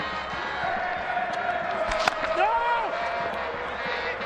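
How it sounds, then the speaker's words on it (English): Large crowd at a T20 international cricket match between Sri Lanka and Zimbabwe, a steady loud roar of voices filling the stadium with cheering swells, a commentator's voice faintly under it. "now you can hear how loud the crowd is"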